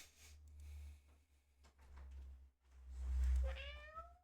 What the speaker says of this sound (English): And she has a cat.